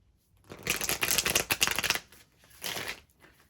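Tarot cards being shuffled in two quick riffling bursts, the first longer and louder, the second shorter after a brief pause, close to the mic with no talking.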